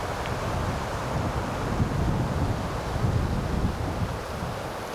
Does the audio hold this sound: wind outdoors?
yes